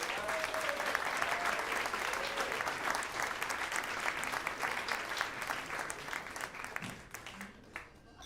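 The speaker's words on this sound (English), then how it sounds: "can we give a great big round of applause to Dr. Gerald Early?" An audience at a jazz talk event claps in sustained, dense applause for several seconds, loud and steady before gradually thinning toward the end, with no voices over it.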